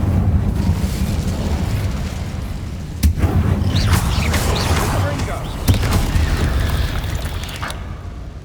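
An Incendio fire spell burst in Hogwarts Legacy roars as a continuous whooshing flame with low rumbling, punctuated by a couple of sharp bangs, loud and sustained across the clip.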